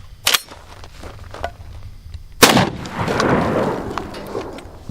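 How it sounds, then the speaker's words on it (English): Two heavy blasts ring out from an H&R 1871 Excell Tactical shotgun firing 3-inch magnum shells, a sharp report followed seconds later by a louder one with a rolling, echoing tail. "let's set up a target and put a couple 3-inch magnum shells through this"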